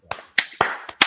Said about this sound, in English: And for that, you get applause from all three of us